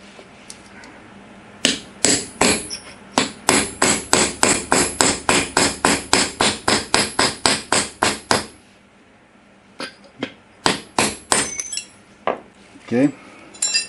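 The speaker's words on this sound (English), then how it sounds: "I'm going to cut the 16D nail out of the front here" MagnaCut and 1095 steel knives chop into a 16D nail in a rapid run of about twenty sharp metallic strikes, then a pause and a second, sparser burst of loud ringing hits.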